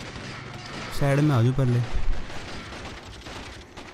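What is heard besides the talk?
gunfire in the video game Freedom Fighters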